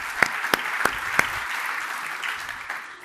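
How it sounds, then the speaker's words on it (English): A room applauds the WWT team at a Cisco and WWT event: a short burst of clapping, with a few sharp claps standing out early before the rest settles into a steady patter that fades slightly toward the end. "Big round of applause to the WWT team."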